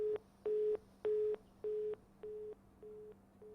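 Telephone busy tone after a call drops during a Haryana TV news phone-in, a steady run of about six evenly spaced beeps with equal gaps, alone and slowly fading toward the end.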